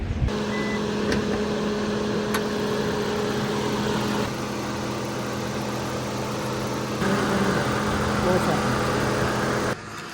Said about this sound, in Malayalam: ഇതാണ് എൻജിൻ വരുന്നത് one point five litre K fifteen B സീരീസിലുള്ള എഞ്ചിനാണ്